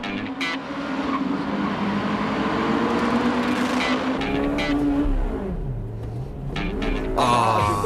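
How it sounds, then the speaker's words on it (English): Honda Civic Type R racing an Altezza and a Celica at East Davis Circuit, engines wailing steadily through the gears with a pitch drop on a shift, then revving hard again, loud and continuous. "The battle with the Altezza and Celica at East Davis Circuit"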